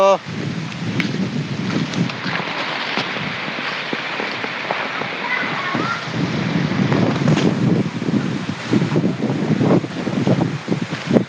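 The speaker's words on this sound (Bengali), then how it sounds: "আজকে প্রচণ্ড বাতাস বইছে" Strong wind gusts roar continuously across the microphone on a stormy morning in a village, a dense, rushing noise that swells and buffets without a break, with patches that sound like rain.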